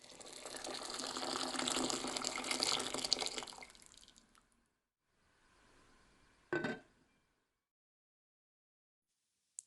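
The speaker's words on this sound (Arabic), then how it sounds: "هحط الفول وهزود عليه مية مغلية" Boiling water pours over fava beans in a clay pot, a loud steady gush for about four seconds that fades out, followed by a faint trickle and a brief clunk.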